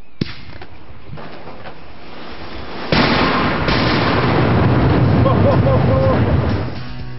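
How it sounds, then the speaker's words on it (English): Salute firework shells burst in mid-air during a long-distance sound test from England toward France: a sharp crack early on, then a loud, sustained thunderous roar and rumble that slowly fades, with people talking around it. "The thunderous roar of the mid-air explosion makes its way towards France"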